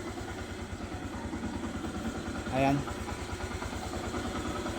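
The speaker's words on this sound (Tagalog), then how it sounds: "magpapainit na ako ng motor" A motorcycle engine warming up at idle, a steady low rhythmic putter running throughout with a brief louder rev or voice near the middle; someone speaks briefly over it.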